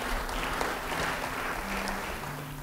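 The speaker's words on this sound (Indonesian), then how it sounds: "Beri tepuk tangan bagi dia." A church congregation claps together for someone singled out during a sermon, a steady wash of hand claps running evenly for a few seconds at moderate level, with a low sustained hum underneath.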